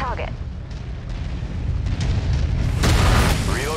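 Artillery strike explosions in MechWarrior 5: Mercenaries, a loud continuous rumbling barrage of booms that swells near the end, with game voice chatter over the top.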